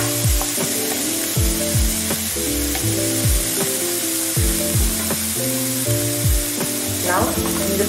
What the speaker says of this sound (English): Now we will be frying this not till it is brown but just soft